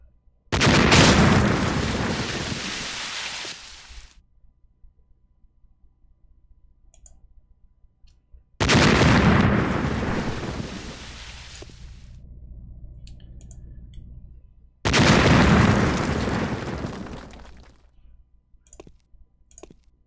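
Three grenade blasts go off in the video game Silent Storm, each a loud, heavy boom that rumbles away over a few seconds, spaced about six seconds apart with quiet between them.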